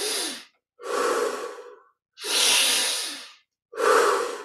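Deep, slow breaths drawn in and out during a Kriya Yoga meditation, four long airy breaths in a steady rhythm with short silent pauses between, close and fairly loud with no talking.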